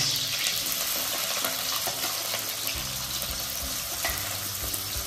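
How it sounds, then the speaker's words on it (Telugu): Green chillies and onions fry in hot oil with a loud, dense, continuous sizzle and crackle, steady throughout with faint stirring clatter underneath, no voices. "సో ఆయిల్ వేడి అయింది. ఇప్పుడు నెక్స్ట్ ఆనియన్, టమాటా, పచ్చిమిర్చి అన్నీ వేసి కలిపేయడమే డైరెక్ట్."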